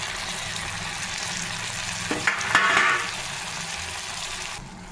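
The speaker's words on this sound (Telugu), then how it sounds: "ఇప్పుడు టమాటా ముక్కలు వేసుకోవాలండి." Tomato pieces hit hot oil in a pan for a dry fish and tomato curry, giving a steady background sizzle that swells into a brief louder crackle and stir about midway before settling.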